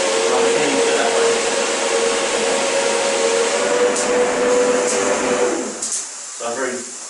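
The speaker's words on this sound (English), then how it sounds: "I'll turn the machine, I'll clean into it that way." A Duplex 340/420 floor cleaning machine runs with a steady, loud whirring hum and a constant tonal whine, turning into a corner, then cutting off near the end to leave brief knocks.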